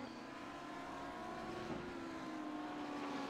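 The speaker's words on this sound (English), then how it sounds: "Listen to that V10 scream." An Audi V10 race car in the iRacing sim at the Nurburgring GP circuit screams at high revs. The engine holds a steady, sustained tone with a slight pitch waver, continuous and loud, with no voices.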